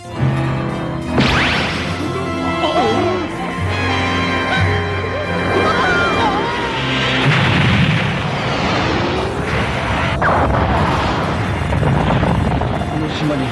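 Dragon Ball Z anime laser blast destroying islands: booming explosions and whooshing energy bursts layered over dramatic music, loud and dense, with rumbling blasts repeating through the scene and a narrator talking over it.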